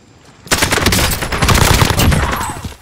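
Dense automatic gunfire in a video game starts abruptly as a sustained loud fusillade of overlapping rapid shots close by, with no speech.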